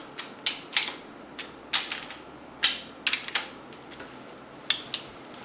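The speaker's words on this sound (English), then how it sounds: "we'll get the torque wrench and torque it" Torque wrench tightening the cylinder head bolts on a 383 engine during a rebuild, heard as a series of sharp metallic clicks and ratchet snaps in uneven bursts, close by and fairly quiet, with no talking.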